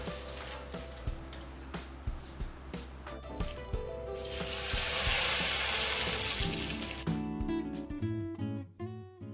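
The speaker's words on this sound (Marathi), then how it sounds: "आणि अशा प्रकारे आपण सगळ्या तळून घेणार आहोत." Rice flour papad (kharvadya) deep-fry in hot oil, making a continuous close sizzle that swells loudly mid-way while light stirring and scraping knocks sound over it.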